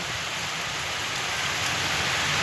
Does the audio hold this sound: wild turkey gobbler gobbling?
no